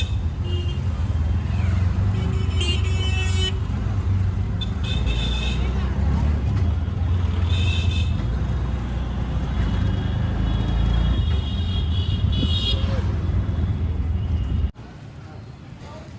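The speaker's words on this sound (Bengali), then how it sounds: "অটো করে এখন যাবো আমাদের ডেস্টিনেশনে।" Riding in an auto rickshaw through busy city traffic near Howrah, a constant loud engine drone and road rumble fill the cabin, with passing vehicles, horn bursts and voices talking over it.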